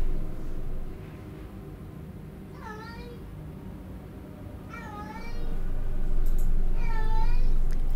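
A cat meows three times, spaced apart and fairly near, over a steady background hiss and room noise.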